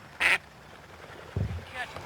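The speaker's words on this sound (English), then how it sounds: "We got ducks there." Ducks quack during a hunting outing in North Dakota: one loud nearby quack, then a couple of fainter calls, with people talking in the background.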